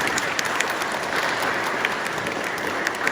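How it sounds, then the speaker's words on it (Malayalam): An audience claps together at a church jubilee gathering, giving a steady, dense round of applause close by that stays even throughout, with no voices over it. "ഒരു കയ്യടി നമുക്ക് കൊടുക്കാം"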